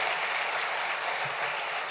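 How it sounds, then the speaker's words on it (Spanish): A church congregation applauds in praise during a service, a steady broad wash of clapping from many hands that holds evenly throughout, moderately loud and without speech over it. "Dale un fuerte aplauso al Rey bendito."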